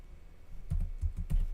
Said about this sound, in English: we're going to type in g++